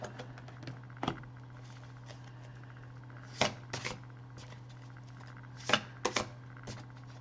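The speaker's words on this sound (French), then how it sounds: "on va tirer les cartes tarot d'amour là-dessus" Tarot cards being shuffled and handled close up, with soft papery riffles and several sharp snapping bursts over a steady low electrical hum, no talking.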